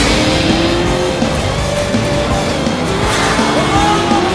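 Car drifting hard to the left in the stunt driving game Stuntman Ignition, with a steady loud engine roar and a drawn-out tire squeal running under it throughout.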